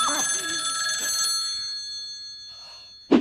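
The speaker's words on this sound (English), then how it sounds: "the phone rang" A telephone ringing at a gas station, a faint electronic ring in short repeated bursts, with a brief louder knock near the end.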